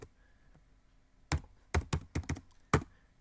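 A short burst of typing on a computer keyboard: a handful of crisp, uneven key taps after a quiet pause, close up.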